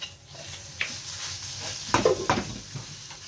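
Filling for kachori, a dry chana dal mixture, stirred in a pan with white oil in a home kitchen, giving soft scraping and light clattering strokes of a spoon against metal with faint sizzling underneath.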